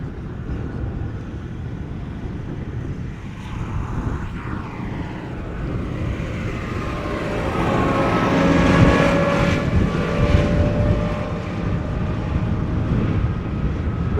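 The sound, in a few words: airliner arriving at Amsterdam Schiphol Airport runway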